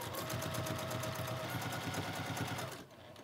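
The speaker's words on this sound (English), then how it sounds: "Lift our presser foot, turn the quilt, put the presser foot back down, and keep sewing." A sewing machine stitches quilt binding in one short, close burst of rapid rhythmic whirring that stops abruptly near the end.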